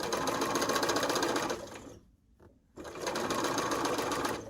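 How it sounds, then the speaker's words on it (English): A sewing machine stitches a quilt seam in a loud, steady whirring run that stops briefly for about a second, then resumes at the same pace, close up with no voices. "I'm actually going to go ahead and sew practically a straight line"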